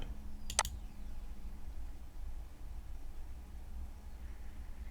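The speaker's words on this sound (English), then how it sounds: "it's just me clicking on the page to get it on" Computer mouse clicking on a web page, a quick pair of sharp clicks near the start, then a steady room hiss with no further clicks.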